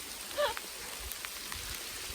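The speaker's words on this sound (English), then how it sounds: "We got hail." Hail falling outdoors near trees on a hillside, a steady broadband patter of small impacts throughout, with a brief louder burst early on and scattered sharper hits.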